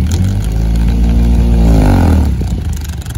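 A Honda car engine with a kazoo fitted on the exhaust revs up loud and close, its pitch sweeping upward and back down before easing off, with an odd buzzy edge over the engine note.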